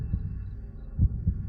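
Heartbeat sound effect in a horror video game, three deep muffled thumps over a low steady hum, the last two paired closely like a pulse.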